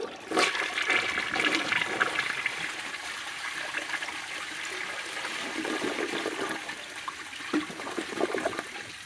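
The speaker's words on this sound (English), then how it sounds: "Let's see a normal flush." A 1995 Eljer Savoy toilet flushes loudly and close up, with a rushing swirl of water that drains and then trickles on as the flapper stays open for a long time.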